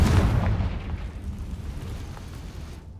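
Confringo fire-spell blast in Hogwarts Legacy, a deep booming explosion that rumbles and slowly fades over a few seconds, with no talking.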